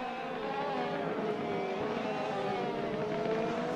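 GT3 race cars, a McLaren and a BMW, roar continuously in Assetto Corsa at Spa, a sustained high engine whine holding steady with no voices.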